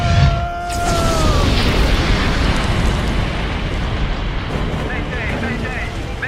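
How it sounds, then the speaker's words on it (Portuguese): An explosion on board a ship bursts as a deep boom, then rolls into a loud, sustained broadband roar and rumble that slowly fades. "Ocorreu uma explosão a bordo."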